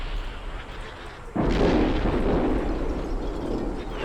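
An artillery barrage in the tank simulation game Steel Beasts, with a T-72B3 combined arms attack: after a low rumble, a sudden heavy blast sets off a sustained roar of rolling explosions that keeps going to the end.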